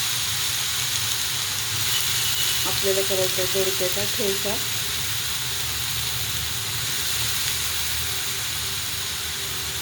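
Chopped ridge gourd sizzles steadily on a hot tava, a constant broadband hiss of frying running the whole time, with a brief burst of speech partway through.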